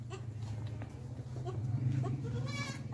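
A favourite female goat on a dairy goat farm in Pakistan bleats close by, with a wavering, drawn-out cry near the end over a steady low hum.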